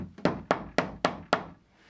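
A nylon-tipped fret hammer taps a metal guitar fret into the fretboard of a handmade electric guitar: five crisp, evenly spaced wooden knocks, close and clear, fading into silence.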